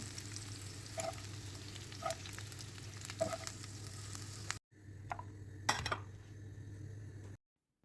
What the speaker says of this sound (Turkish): Aynı şekilde biberlerimizi de kızartıp aynı kap içerisine alalım.